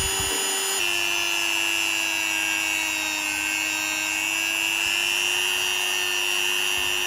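Small rotary power tool polishing fine scratches out of an Armani watch, a steady high-pitched whine with a slight pitch dip early on, close and continuous, with no talk.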